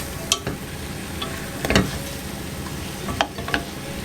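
Salted pig tail browning in a hot pot gives a steady low sizzle, broken by a few sharp pops and clatters of stirring near the middle and end, with no talking.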